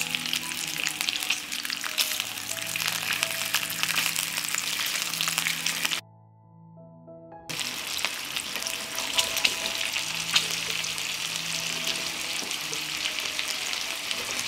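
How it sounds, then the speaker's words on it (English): Bacon frying in a pan makes a loud, dense sizzle and crackle, cut off by a brief pause before resuming just as strong; a faint tonal background sounds under it. "I will fry the bacon on both sides."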